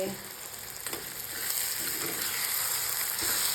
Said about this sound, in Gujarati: આવી રીતે સરસ મજાનું વઘાર કરી નાખ્યું છે